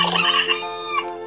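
A single short rooster crow, loud and close, with a harsh rising-then-falling call lasting just over a second.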